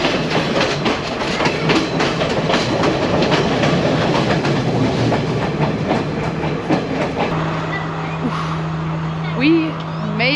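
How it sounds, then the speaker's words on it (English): Sri Lanka's scenic train arriving at Ella, a steady rumbling rattle of carriages with clickety-clack on the rails and a sustained low horn-like tone near the end, with voices in the background. "This is the beautiful train that we have been on."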